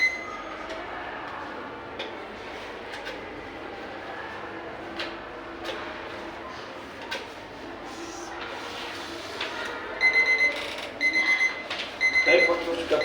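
A timer alarm rings at the end of a timed psychology test, a rapid repeating electronic beeping in short bursts near the end after a stretch of quiet room noise.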